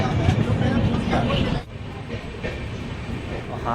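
Train passing on a railway, a loud rattling clatter close by that drops off abruptly partway through, with voices in the background.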